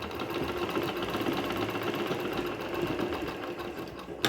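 Sewing machine running steadily as it stitches a border onto fabric for a blouse, a continuous close whirring hum at even loudness throughout with no talking.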